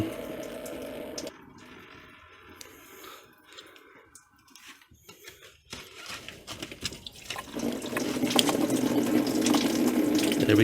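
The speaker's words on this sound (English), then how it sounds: "Starting to get a dribble now." Coolant from a Land Rover 300Tdi trickles and then pours into a bucket, starting as a faint dribble and growing into a steady, splashing stream.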